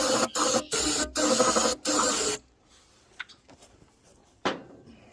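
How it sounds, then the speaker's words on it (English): Several loud, hissing bursts of solvent cleaner sprayed from an aerosol can in quick succession, followed by quieter clicks and a soft knock. "this is a solvent. It does not hurt anything. It's okay. Just spray it off real good"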